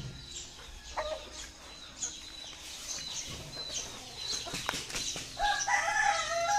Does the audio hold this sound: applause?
no